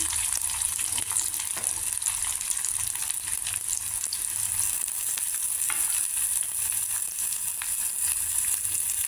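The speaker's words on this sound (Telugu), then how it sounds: "ఉల్లిపాయ ముక్కలు కొద్దిగా లైట్ బ్రౌన్ కలర్ వచ్చేదాకా వేయించుకోవాలి" A steady, dense sizzle of chopped onions frying in hot oil until light brown for a cucumber curry, close and continuous with faint crackles throughout.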